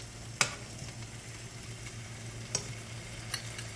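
Jumbo shrimp, seasoned the day before, fry in melted butter with a soft, steady background hiss, broken by a few sharp clicks and spatters as they settle and are moved around the pan.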